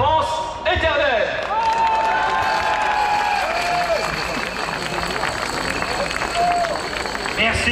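A large outdoor crowd at a national rally for peace and liberty on Place du 18 Juin 1940 claps and cheers loudly and continuously, with whistles and babble mixed into the sustained applause.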